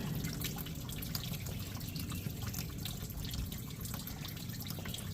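Water dripping and trickling while tumbler lids are rinsed, a dense, steady patter of drops close by, continuous and fairly quiet, with no voices.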